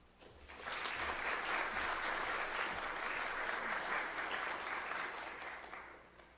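Ceremony audience at the Jepson School Prelude applauding a student speaker onto the stage, a steady burst of hand-clapping that rises quickly, holds for several seconds and tapers off.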